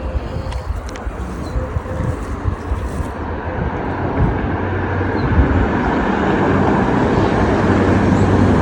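Broadband rumble of a car passing on a nearby road, swelling gradually louder and holding steady as it approaches, with faint background sounds early on.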